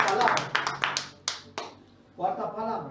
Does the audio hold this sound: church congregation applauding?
yes